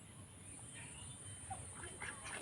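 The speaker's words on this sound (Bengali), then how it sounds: "এই দেখো হাঁস" Ducks at a pond give faint, scattered quacks against a quiet outdoor background, distant and low in level.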